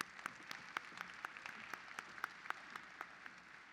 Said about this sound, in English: Let's get one more round of applause for our committee spokespeople as they exit the stage